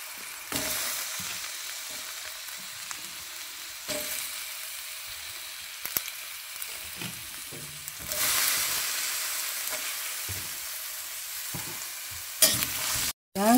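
Onions frying in a pan with garlic for vegetable chop suey hiss steadily, the sizzle surging at intervals as the pan is stirred, with occasional utensil clinks and a sharp clatter near the end.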